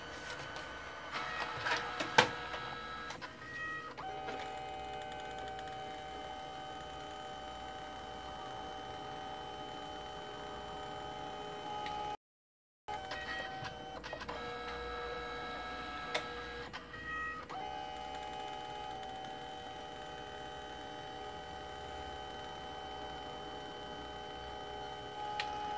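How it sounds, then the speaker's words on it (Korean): An old Samsung SPP-2020 photo printer, about seventeen years old and unused for roughly a decade, prints a test photo. It gives a faint, steady mechanical whir and hum with small clicks and ticks. A short silent gap interrupts it, and no one speaks. "인쇄가 잘 되는지 확인을 한번 해보겠습니다"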